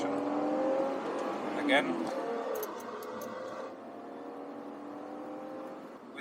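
A Lexus IS300 with a manual swap pulls at full throttle in second gear, its engine note holding a steady strained drone that rises and eases. A voice speaks briefly over it.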